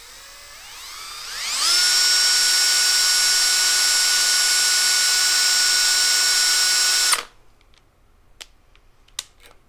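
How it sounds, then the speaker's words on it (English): A small drill bit drilling into a broken tap spins up with a rising whine, holds a steady high-pitched drone for several seconds, then stops abruptly, followed by faint clicks. "We're gonna try a smaller drill bit here."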